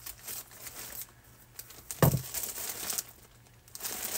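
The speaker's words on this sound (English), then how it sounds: "And let me just cut this open." A plastic bag of yarn is cut open, bringing faint close crinkling and rustling of plastic with one sharper crackle midway, soft and quiet throughout.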